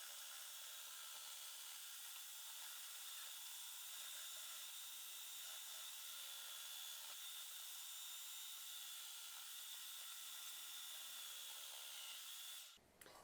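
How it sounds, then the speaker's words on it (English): Food processor chopping washed peppers for strawberry and pepper jam, a steady high whirring motor hum running alone for most of the stretch before cutting off abruptly near the end. "you're going to stick them in your food processor"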